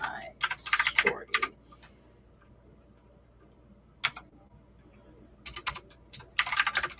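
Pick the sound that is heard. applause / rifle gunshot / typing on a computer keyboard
typing on a computer keyboard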